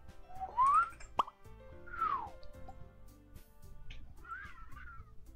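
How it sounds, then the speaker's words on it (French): A cat meows several times in short, rising and falling calls spaced about a second apart, fairly close and clear, with a quiet musical background and no talking. "Miaou, miaou."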